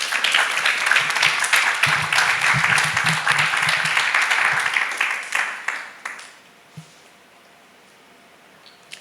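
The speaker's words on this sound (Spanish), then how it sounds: "Vamos a darle un aplauso a Él entonces." A congregation claps enthusiastically during a Spanish-language church sermon, the applause loud and dense for several seconds before fading out, leaving a few faint scattered sounds.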